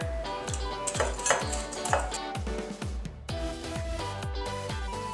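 A whisk clinks rhythmically against a bowl while mixing figgy pudding batter of eggs and brown sugar, giving quick, bright metallic strokes close by with no speech.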